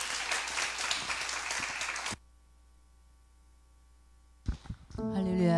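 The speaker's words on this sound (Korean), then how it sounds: "박수 좀 쳐주세요." Congregation applause at a church revival service, a dense wash of clapping for about two seconds that cuts off abruptly, followed by a quiet stretch and then a voice speaking.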